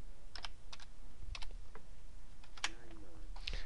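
Close typing on a computer keyboard while entering a date in an Excel spreadsheet, a quick run of crisp key clicks in small clusters over a low steady hum.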